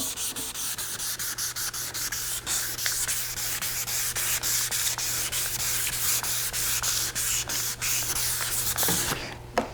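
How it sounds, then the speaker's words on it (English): Steady rhythmic scrubbing of 1200-grit sandpaper on a wet, oxidized boat surface, repeated back-and-forth strokes, close and continuous with no talking. "So we're going to keep sanding with 1200 here."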